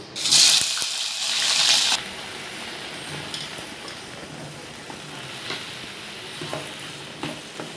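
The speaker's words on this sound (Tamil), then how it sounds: "எண்ணெய் காஞ்ச பிறகு நம்ம முதல்ல இந்த வெண்டைக்காய் வதக்கி எடுத்துக்கலாம்." Okra hits hot sesame oil in a kadai with a loud burst of sizzling for about two seconds, then settles into a quieter, even sauté with occasional stirring scrapes.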